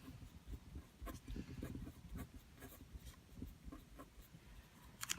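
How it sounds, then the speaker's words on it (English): Pencil or pen writing out trigonometry answers on paper, a faint close rhythmic scratching of strokes continuing steadily for several seconds without speech. "So let me just write them down as the directions ask me for them"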